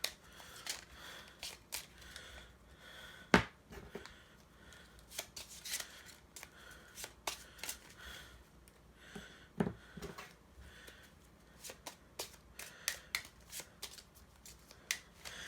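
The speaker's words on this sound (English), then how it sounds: "we'll go ahead and give each deck a quick shuffle" Decks of cards for a two-player tabletop game are shuffled repeatedly, with sharp riffling bursts and soft slaps and taps recurring irregularly at close range, alone without talk.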